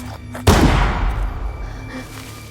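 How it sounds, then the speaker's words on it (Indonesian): Single loud gunshot fired by a priest in a horror film, a sharp close blast followed by a long booming decay that rumbles out over the next two seconds. "Matteo langsung melepaskan tembakan."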